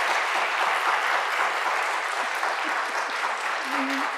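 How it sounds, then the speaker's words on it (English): Steady, dense applause from an awards-ceremony audience at a community media awards event, sustained and fairly loud throughout with no break. "I want us to applaud"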